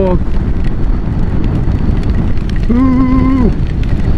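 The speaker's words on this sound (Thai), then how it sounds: "ลมทั้งลมทั้งฝน" Wind and rain rush steadily past a rider on a Honda Click 160 scooter, a loud constant roar with a brief whining tone partway through.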